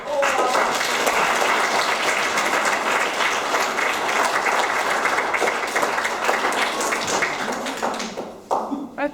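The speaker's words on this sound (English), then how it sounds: "can we just give a massive round of applause to all our" A large crowd applauding steadily for several seconds, dense clapping that thins out slightly near the end.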